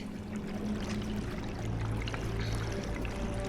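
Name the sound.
rising water pouring in, from the video game Conan Exiles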